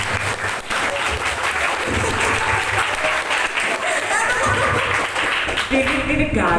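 A seminar audience at an Islamic boarding school claps in a counted rhythmic pattern, a dense, loud burst of hands sustained throughout, ragged rather than tightly in time.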